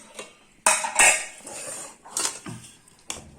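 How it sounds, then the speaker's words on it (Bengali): Rice is served onto a plate in a home kitchen, with sharp, intermittent clinks and scrapes of a serving spoon against metal dishes, several distinct impacts separated by short pauses. "আজকে এই যে ভাইয়ের থালাতে ভাত বাড়ছি বন্ধুরা"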